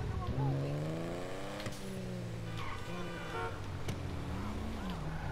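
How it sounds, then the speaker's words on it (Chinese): A Lampadati Casco classic sports car engine in GTA 5 revs and drives, its pitch repeatedly climbing through the gears with steady motor drone and a brief sharp transient near the middle. "他连开车的声音都很帅。"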